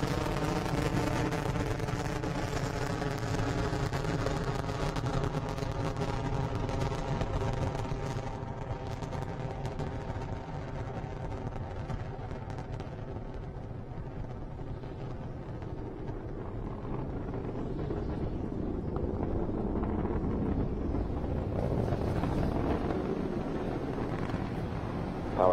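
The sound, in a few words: SpaceX Falcon 9 rocket with nine Merlin 1D engines in flight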